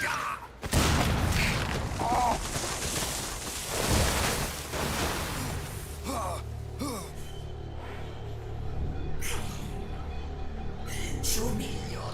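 Missile explosions in Metal Gear Solid 4: Guns of the Patriots, several heavy booms and rumbling blasts amid game noise, with a voice talking over parts.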